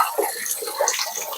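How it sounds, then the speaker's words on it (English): Tap water runs over a pet water bowl being rinsed in a sink, close splashing and gurgling with shifting tones as the bowl moves under the stream. "I'm just going to give it a rinse and put it on the drying rack"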